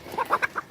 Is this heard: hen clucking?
yes